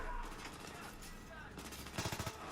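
Gunfire in the video game Battlefield 3: a rapid burst of automatic shots near the end, with muffled game noise and distant explosions throughout, mixed under a player's talk.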